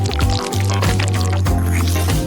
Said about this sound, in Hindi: अब फिलिंग को अंदर डालेंगे।